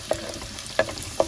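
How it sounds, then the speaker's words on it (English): Garlic sizzles in hot olive oil with fenugreek in a pot, under a steady, soft frying hiss, while three sharp clinks of a utensil against the pan break through at intervals. "add garlic, cook for a few minutes"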